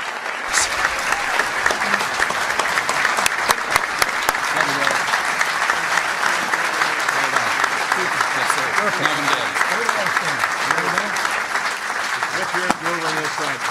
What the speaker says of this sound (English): How about another round of applause for Secretary Rick Perry